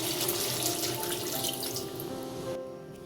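Water is poured from a tap into a pot of taro and potato curry cooked with ground spices, a loud close gushing splash that runs steadily and then cuts off near the end.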